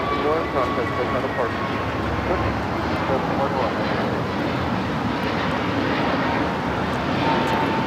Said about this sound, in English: 721 taking off to Phoenix on the A321neo